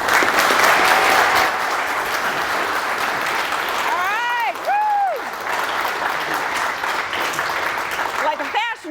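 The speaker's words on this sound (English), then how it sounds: "Let's have a nice round of applause for Tony Gemignani, Glenn Cebulski, and our 2021 Real California Pizza Champion," A crowd at a California pizza contest applauds the judges and champion with loud, continuous clapping. A few whoops and a cheering voice rise through it before it thins out toward the end.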